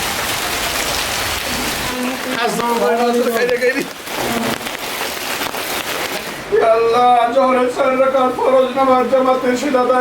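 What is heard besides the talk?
heavy rain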